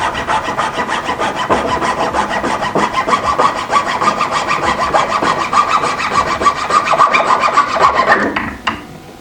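A hand saw cuts through a wooden dowel in steady, fast back-and-forth strokes, loud and close, for about eight seconds before the sawing stops.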